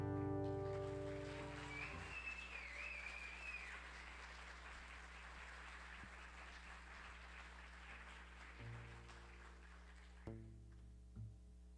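An audience applauds after a live song at a science talk, a faint, distant wash of clapping that gradually thins out with a low hum underneath.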